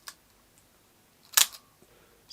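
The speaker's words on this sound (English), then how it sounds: "So the actual shutter seems to work fine." The shutter of a Lily folding plate camera fires once at 1/25 second, a single crisp, close mechanical click in quiet surroundings, with faint handling ticks before and after.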